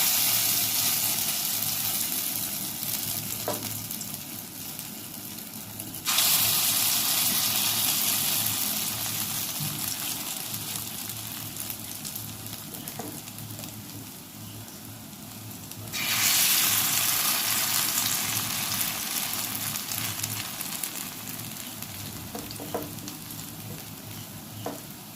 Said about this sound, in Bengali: বড়া ভেজে নেব